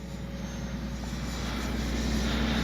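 A Freewing 80mm JL-8 RC jet flying, its electric ducted-fan whine a steady, fairly distant drone that grows slightly louder over a few seconds, with no talking.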